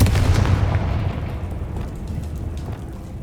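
A Confringo blasting spell explodes in Hogwarts Legacy, a loud booming burst that opens strong and rolls off into a rumbling decay over a few seconds, with no voices.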